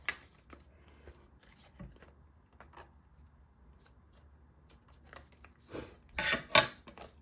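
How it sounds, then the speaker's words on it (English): Ribbon scissors snip along the edge of a paper card in a quiet craft setting, giving a few faint, scattered cuts and then a brief cluster of sharper, louder snips near the end. "I'll take my ribbon scissors and just snip up the edge here"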